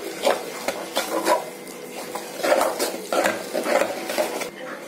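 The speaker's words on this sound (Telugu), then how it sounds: "ఇదిగోండి రెండు మిక్స్ చేసుకుందాం, కలుపు కలుపుకుంటే మిక్స్ అయిపోతాయి రెండు" A spoon stirs and mixes gongura (sorrel leaf) chutney mixture in a pan, giving repeated scraping and clinking strokes against the metal at a steady, moderate loudness with no talking.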